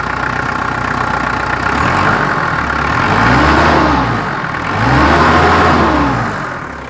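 Mitsubishi Strada 2.8 diesel pickup engine, in good condition, idling and then revved twice, rising and falling in two swells, steady and fairly loud close by, with no talk over it.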